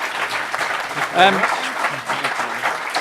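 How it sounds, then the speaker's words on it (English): Applause from a debate audience for the panellists at a Question Time event at Cheltenham Town Football Club: moderate, continuous clapping with a brief voice rising over it midway. "I'm sure you're going to give them a round of applause for what was a very, very, very good evening."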